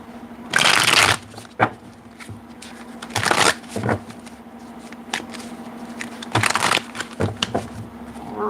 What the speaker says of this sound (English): And then shuffle them a little bit more